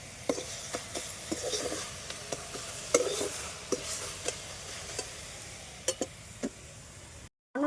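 Chhana frying in a pan and being stirred, with a soft sizzle running underneath and a steady series of sharp scrapes and clinks from the spoon against the metal pan, close and fairly quiet, with no one speaking.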